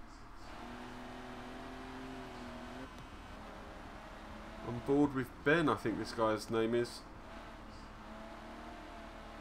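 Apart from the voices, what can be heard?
race car engine in a sim racing video game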